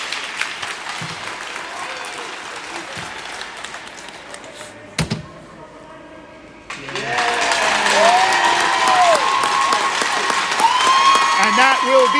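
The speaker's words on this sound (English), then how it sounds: "Cheers from the crowd." Crowd at a women's rugby match, Caledonia Steel Queens against Widnes Wild Women, breaks into loud sustained applause and cheering after a quieter stretch, with whoops and shouts rising over dense clapping.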